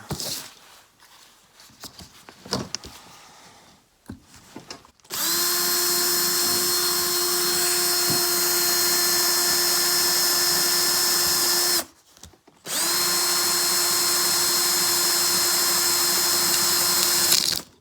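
A power drill whines loudly in two long sustained runs with a brief pause between, after some handling and clattering noises.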